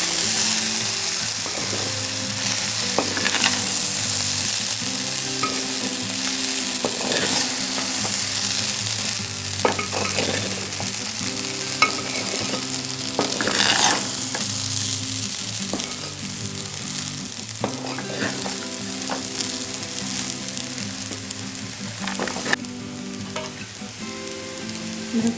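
Vegetable fried rice being stirred and tossed in a frying pan, a steady loud sizzle with repeated scraping strokes of the spatula throughout, no voices.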